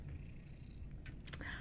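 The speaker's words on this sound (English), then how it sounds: "Do you hear her purring?" A pet cat purrs softly and very close, a faint, continuous low rumble with a few light rustles on top.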